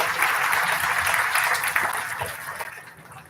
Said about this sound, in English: Can we have a round of applause for those who have established scholarships and awards?